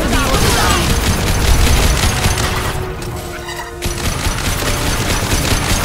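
Rapid weapon fire at a combat drone in Mass Effect 2, a loud, continuous clattering barrage that thins briefly in the middle before resuming at full intensity.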